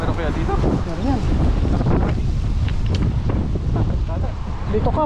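Loud wind roars and buffets the microphone continuously while people talk over it.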